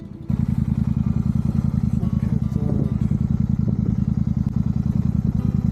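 A Royal Enfield-style Super Meteor 650 motorcycle is ridden steadily, its engine giving a loud, even, throbbing rumble that starts abruptly and holds throughout with faint wind and road noise.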